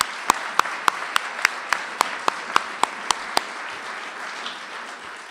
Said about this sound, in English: So I just want to give a round of applause to Michael.